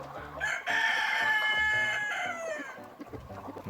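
Chickens and a rooster on a forest farm clucking and crowing as they gather, loud and close, with overlapping calls and a long crow in the middle.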